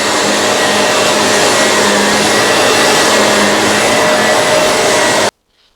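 A vacuum cleaner runs loud and close on a bare floor with its brush roll spinning, giving a steady whirring roar that cuts off abruptly near the end.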